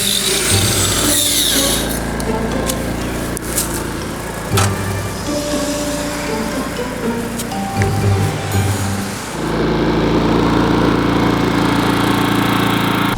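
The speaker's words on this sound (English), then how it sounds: "this took a plug-in angle grinder and a diamond cutoff wheel, and then it made pretty easy work of it." Plug-in angle grinder with a diamond cutoff wheel cutting through a motorcycle lock, a loud continuous grinding whine that shifts in pitch as the wheel bites, running for the whole stretch.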